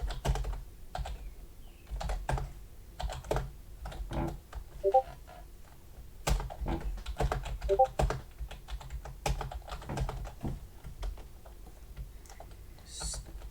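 Rapid, uneven tapping of keys on a computer keyboard fills the whole stretch, close and fairly soft, with no voices over it.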